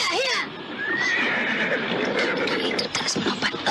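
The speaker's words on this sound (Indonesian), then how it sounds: "Kuda itu terus melompat-lompat ketakutan." Frightened horses neigh and whinny loudly, with clip-clop hoof sounds as they jump about and refuse to move on. A voice urges them on in the background.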